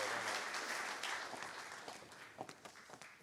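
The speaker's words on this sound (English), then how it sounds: "Huge round of applause for Leah." A theatre audience at an AI event claps, starting as dense applause that gradually thins out into a few scattered, separate claps by the end.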